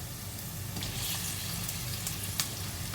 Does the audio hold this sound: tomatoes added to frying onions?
yes